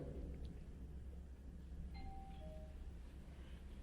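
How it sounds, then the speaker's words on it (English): A two-note electronic doorbell chime rings once, fairly faint, over a steady low background hum. "every apartment has a doorbell"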